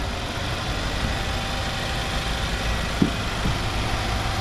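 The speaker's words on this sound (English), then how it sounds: "that V8 is running smooth as could be" A 2017 Nissan Armada Platinum 4x4's V8 idles steadily at close range, a smooth, even engine hum throughout with a couple of faint clicks near the end.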